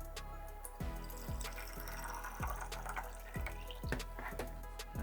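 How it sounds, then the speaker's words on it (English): Hot water pours steadily into a tank with a continuous rushing fill, close and fairly loud, with repeated deeper glugging pulses as the level rises. "And then I'm going to fill this with hot water."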